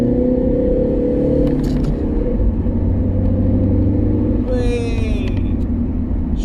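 Alfa Romeo 156 JTD diesel car rounding a roundabout, with a steady close engine drone and road rumble from inside the cabin, the pitch dipping as it turns, and a brief squeaky whistle near the end.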